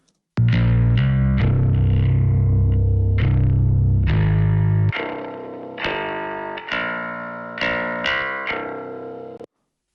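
A metal bass amp track plays a series of heavily distorted bass notes, first thick and boomy, then thinner and brighter after the EQ change, each note struck and ringing out loud and alone.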